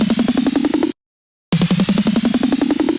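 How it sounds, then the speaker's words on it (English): A fast snare roll rattles, cuts to silence, then rolls again, its tone rising in pitch toward the end. "snare rolls kind of like pitch up at the end"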